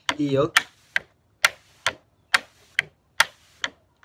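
Crisp tap-shoe strikes in a steady toe-heel pattern, evenly spaced clicks on a hard floor, close by, after a brief voice at the start.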